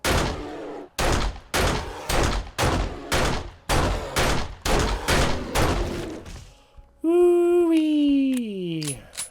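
Pistol shots in the 7 Days To Die video game, a steady series of about a dozen loud, evenly spaced reports, followed by a brief tonal whine with no shots.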